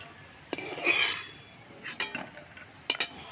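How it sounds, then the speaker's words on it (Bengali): Crisp fried green pea pakoras tapped together, giving a few sharp, bright clinks spaced across the moment, close and fairly quiet with no talk. "কিরম মজমজে হয়েছে, টং টং করে আওয়াজ করছে।"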